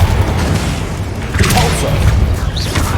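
Confringo fire spell cast during a boss fight in Hogwarts Legacy, heard as a dense booming blast with crackling impacts layered over continuous low rumble, loud and sustained with other combat noise.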